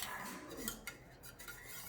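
A spoon stirs a homemade herbal cough and cold remedy (ukalo) in a pot, giving faint, scattered metallic clinks and scrapes over a quiet, steady background.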